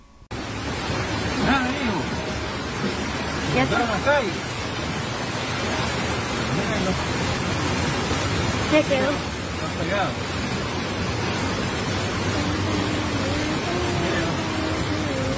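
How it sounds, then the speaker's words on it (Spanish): Strong river currents after torrential rain produce a dense, continuous rushing roar, loud and steady throughout, with voices faintly audible beneath the noise. "se tuvo que cerrar el paso debido a las fuertes corrientes del río"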